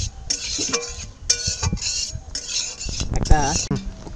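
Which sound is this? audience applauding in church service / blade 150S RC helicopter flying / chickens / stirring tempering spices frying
stirring tempering spices frying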